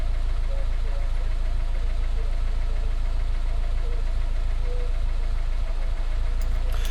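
The engine of an MG TF VVC sports car runs steadily during a health check, with a fast, even mechanical ticking and a low idling hum that continues without change.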